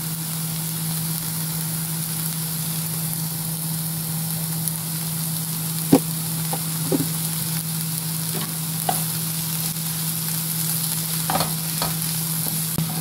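Onions fry in a pan with a constant loud sizzle, joined by occasional scraping clicks of stirring, and no one speaks.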